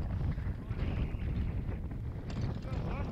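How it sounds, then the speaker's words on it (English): Strong wind buffets the microphone on a mountain summit at Beinn Udlaidh in Scotland, a continuous heavy rumble with gusting roar, while a voice talks faintly underneath. "The wind was really, really getting stronger now"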